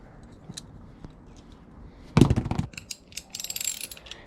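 A cheap ratchet tightening bolts on a hitch receiver being installed under a Chevy Astro/GMC Safari AWD camper van, with sparse clicks, then a loud burst of rapid ratcheting and scraping, followed by a run of quick metallic clicks.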